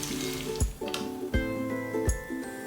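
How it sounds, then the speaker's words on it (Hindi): Mutton pieces shallow frying in oil over medium to high heat, a steady sizzle with periodic sharp clatters and spikes as pieces are turned in the pan, close and moderately loud. "मटन को हर साइड से पलटते हुए गोल्डन ब्राउन और 4 होने तक मीडियम से हाई हीट पर शैलो फ्राई करें।"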